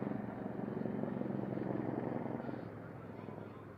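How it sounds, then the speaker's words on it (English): A helicopter flies over a Double-A baseball stadium during a game between the Reading Fightin Phils and the Akron RubberDucks, a steady loud rotor drone filling the air and slowly easing off, with a game announcer talking over it. "as a helicopter flies over us"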